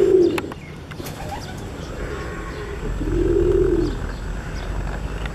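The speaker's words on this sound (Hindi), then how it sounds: "टावर से अज फिर एक कबूतर बैठा था।" A pigeon coos close by, a short call near the start and a longer, throaty coo a few seconds later, over quiet background hum.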